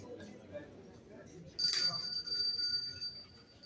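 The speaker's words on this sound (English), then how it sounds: "you're going to hear me ring a bell" A single small bell rings once partway through, a bright, sharp ding with a short ringing decay, heard over a low murmur of room noise and distant voices.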